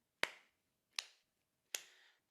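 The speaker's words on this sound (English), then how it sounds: "so you can clap maybe" Three sharp claps spaced about three-quarters of a second apart, each ringing briefly before fading, with a steady rhythm and no talking. They come from people clapping along to a folk song at a singing workshop.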